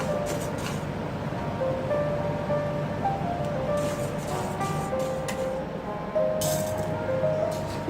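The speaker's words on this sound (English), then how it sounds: "You have to fry it until it is brownish color." Matta rice being dry-fried in a pan until brownish, giving a continuous rattling, clinking rustle of grains being stirred, fairly close and steady, with a few brighter scraping bursts and no talk.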